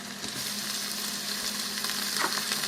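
Vegetables sauteing in Italian sausage grease in a pan, a steady continuous sizzle with a faint stir or scrape near the end, no talking.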